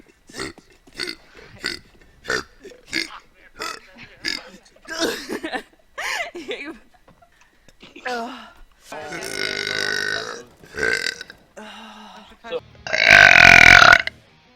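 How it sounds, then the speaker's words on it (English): A woman on a livestream lets out a long, loud burp after a stretch of talk and short sharp noises, with the belch building to a forceful close near the end. "Sorry, I burped."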